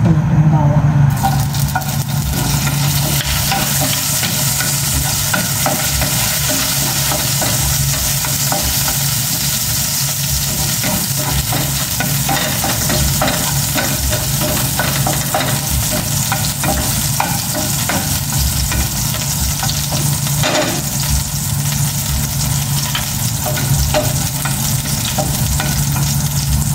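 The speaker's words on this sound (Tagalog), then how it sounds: "Gisa ko na itong bawang." Garlic sautéing in a frying pan beside tilapia, a loud, dense, constant sizzle and crackle that runs unbroken for nearly half a minute, with occasional stirring scrapes and no talk.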